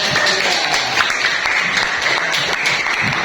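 A classroom group claps steadily for a student presentation group, a dense, loud wash of many hands that holds evenly throughout with no voices standing out.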